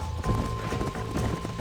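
Horse hooves galloping in rapid, rhythmic thuds in the Red Dead Redemption game world, close and loud with a faint steady tone underneath.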